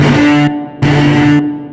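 A heavy, gritty distorted synth bass plays two sustained notes with a short gap between them. Loud and buzzing, no voices.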